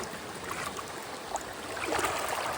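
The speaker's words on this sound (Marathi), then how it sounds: "हे नदीचं पाणी तर इथून हा इकडून नदीचं पाणी येतंय" River water runs through a small irrigation channel beside a sugarcane field, a soft continuous trickling and burbling, close by and moderately quiet, with faint scattered splashes.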